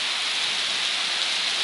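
Steady rain falling in New Hampshire during a hike on the Appalachian Trail, a dense, even hiss of drops close by, continuous and fairly loud with no voices.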